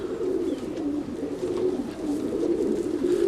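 Roller pigeon cooing softly and steadily up close, a continuous low murmuring coo with no talking over it.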